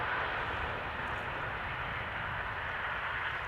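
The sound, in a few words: Embraer E2 airliner arriving at Amsterdam Schiphol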